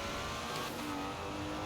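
Cars accelerating hard in a Forza Horizon 4 drag race: a fairly faint, steady, dense engine roar with revving tones sweeping upward, continuous for under two seconds with no talking.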